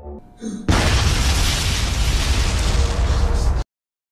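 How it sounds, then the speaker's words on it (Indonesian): A deep, roaring blast erupts after a brief lead-in and rumbles loudly for about three seconds before cutting off abruptly. "terdengar gemuruh seperti ledakan"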